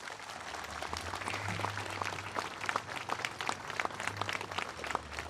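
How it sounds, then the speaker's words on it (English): Crowd at a D-Day 80th anniversary commemoration ceremony in Moncton, New Brunswick, giving sustained, even applause throughout, dense clapping heard from a middle distance. "they all deserve a super round of applause from everybody"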